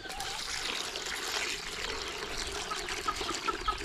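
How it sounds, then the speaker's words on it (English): Water trickles and pours while chickens are being watered on a farm, a faint steady splashing stream, fairly quiet throughout. "So I water all the chickens down"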